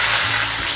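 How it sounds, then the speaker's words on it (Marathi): Chopped onion sautés in hot oil, giving off a loud, steady, close sizzling hiss with no break and no voices over it. "कांदा लालसर होईपर्यंत परतायचा आहे।"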